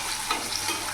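Whole spices such as cinnamon, cardamom and black cardamom sizzling in hot oil in a pan, a steady close crackle with light stirring scrapes throughout, no talking.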